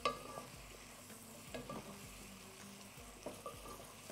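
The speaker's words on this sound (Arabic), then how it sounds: "انما انا كده بحمر اللحمه وبحمر البصل" Beef and onions browning together in a pan for a potato tagine, a faint close sizzle broken by repeated scraping stirs at a slow, irregular rhythm.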